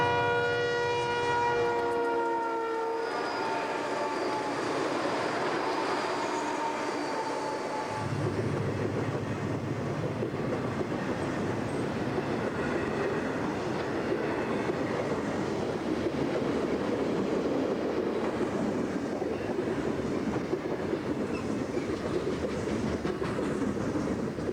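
A Union Pacific NLIN freight train led by Conrail locomotives passes by the Mississippi River, a horn blast giving way to a continuous loud rumble and clatter of rolling wagons that fills the whole stretch.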